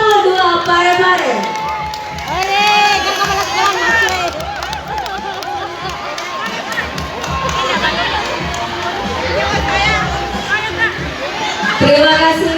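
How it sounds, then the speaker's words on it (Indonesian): Crowd applause and cheering for a primary school marching team at an Independence Day march in Parepare, a broad continuous wash of clapping and chatter with an announcer's voice over a loudspeaker throughout. "Aplaus yang meriah untuk UPTD SD Negeri 62 Parepare."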